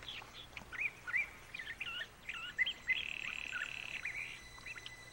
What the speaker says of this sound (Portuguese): Pássaros migrantes ainda passam por aqui.